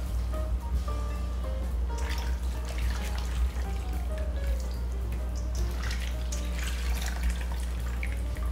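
Cold boiled water pours and splashes as cabbage is rinsed by hand in a bowl, a steady close trickle with intermittent sloshing and dripping throughout, no talking.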